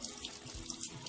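A rock with dirt and old grass on it is washed under a running tap into a sink, a steady close rush of water splashing for about a second, with no talk.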